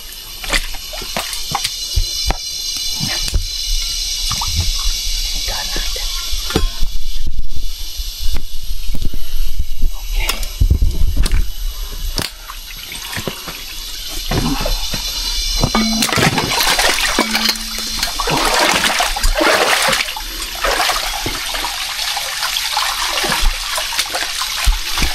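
Water splashing and pouring steadily during an outdoor bath, a loud continuous rushing hiss with irregular splashes and sloshes throughout, with no clear talk.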